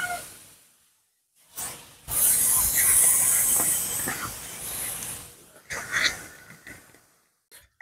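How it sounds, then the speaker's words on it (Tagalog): An aerosol spray can hisses paint onto a warm rear bumper part of a car in short bursts, a long steady spray followed by brief puffs, close and moderately loud. "Nag-spray na ako para habang mainit, madaling matuyo."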